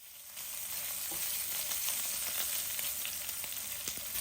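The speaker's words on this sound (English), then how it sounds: "you could definitely fry the bacon the same time as the sausage" Sausage and bacon frying in a hot pan give a constant, close crackling sizzle with scattered pops and light stirring, heard alone without any talk.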